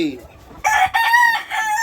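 A loud, close rooster crow rings out in a long stretched call, preceded by a brief softer cluck.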